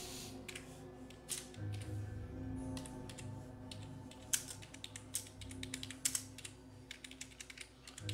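Uneven keystrokes on a computer keyboard typed one-handed, coming in irregular clicks and short bursts over a steady background of game music and hum.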